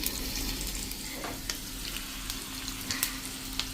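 Spices crackle in hot oil for a tempering poured over street-style chole, with red chili powder going in; a close, steady sizzle carries sharp scattered pops throughout.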